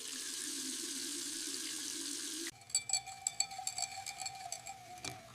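Tap water runs steadily into a sink for the first few seconds, then stops, leaving small drips and light splashing as a face is washed.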